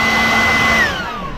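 A new rechargeable handheld blower runs at full power just after unboxing, a loud steady whine with a constant pitch that dips slightly as the motor starts to wind down near the end.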